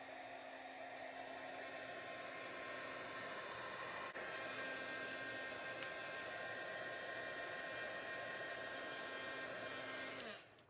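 An embossing heat tool blows hot air onto a cheap wooden embellishment, a steady whirring hiss held for about ten seconds before it clicks off.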